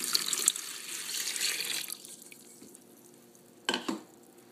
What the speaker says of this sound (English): In the ice cream bucket, I'll be pouring the lukewarm water.